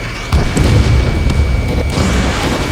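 An in-game explosion as a missile strikes a bomber in the Ace Combat 7 flight game: a heavy booming burst that opens sharply, then a sustained rumbling roar that carries on for a couple of seconds with no voices.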